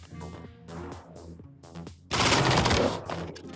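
A burst of rapid automatic gunfire in a mobile shooter game, loud and dense for about a second, following a stretch of tonal game music and effects.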